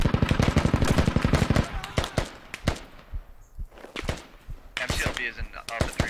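Gunfire snaps around an MT-LB armored vehicle in the video game Squad during a one-life event. Rapid shots crack in close bursts, then thin out into scattered snaps and thuds, with radio chatter from players between them.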